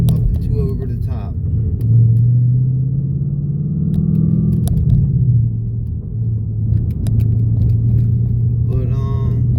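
A Ford Mustang GT fitted with Ford Performance M5300XA street lowering springs cruising on the road, its engine a steady low rumble from inside the cabin with a brief rise in revs midway.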